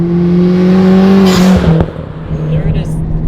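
A modified Hyundai Genesis Coupe 2.0T engine holds a steady, loud, revving drone from inside the car, then its pitch drops slowly as the revs hang before fading into road and cabin noise.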